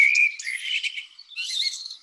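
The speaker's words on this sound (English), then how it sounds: "What you're hearing right now is a sort of spring of dawn chorus." Spring dawn chorus of Chicago-area birds, a few clear high whistled and chirping songs close by, in bursts with a short gap near the middle, with no talking.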